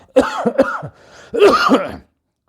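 A few harsh coughs from a man with a cold in quick succession, then a pause and a longer, throaty coughing fit, close and loud.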